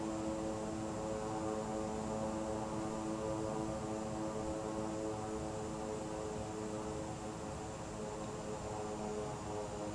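A light aircraft idles on the ground after landing at LaGuardia in Microsoft Flight Simulator 2020, giving a steady, fairly quiet engine and propeller drone with a constant tone and no voices.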